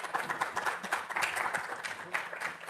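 A workshop audience applauds after a presentation, the clapping fairly faint and slightly distant, continuing steadily throughout.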